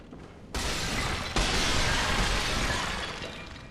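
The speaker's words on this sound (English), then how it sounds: "Sure are some shattering pots" Clay pots shattering in the Bloodborne video game: two loud, sharp breaking crashes close together, each one trailing into scattered debris and a long noisy tail.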